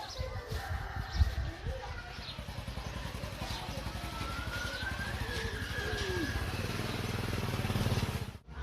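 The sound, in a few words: motorcycle ride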